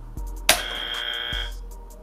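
A quiz game buzzer fires once with a sharp electronic tone that holds for about a second before stopping, loud and close, with faint low thumps around it and no talk.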